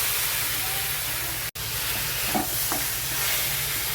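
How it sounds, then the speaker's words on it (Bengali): Chicken fries in a kadai with onion paste, ginger-garlic paste, chillies, peppercorns and cumin for a Bengali chicken rezala. A steady, close hiss of sizzling runs throughout, broken once by a momentary dropout, with a few faint stirring clinks. "চিকেনটা কড়াইতে ছেড়ে দিচ্ছি"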